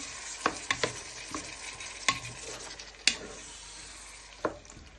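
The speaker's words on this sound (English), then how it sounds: "You give that a little stir first, Bring it all the way around the pan." A spoon sweeps around a pan of prawn, chorizo and bacon stew with chopped tomatoes, giving a few sharp scraping knocks over a low simmering sizzle, close and unaccompanied by speech.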